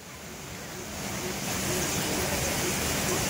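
Flowing stream running through a park in Dharan, a steady broadband rush of water that swells slightly after the first second and holds at an even, moderate level with no talk.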